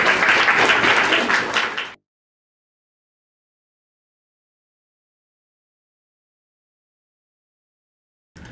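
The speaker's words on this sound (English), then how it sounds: "I think we should clap for her." Audience applause and clapping in a workshop setting, a dense burst of many hands for about two seconds, then a long silence before a brief sound returns at the very end.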